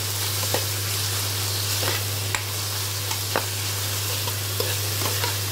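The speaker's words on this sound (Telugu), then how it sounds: "గోల్డెన్ బ్రౌన్ కలర్ వచ్చేదాకా వేయించుకోవాలి ఉల్లిపాయ" Onions fry in oil until golden brown, giving a loud, constant close-up sizzle with occasional sharp clicks and taps from stirring over a steady low hum.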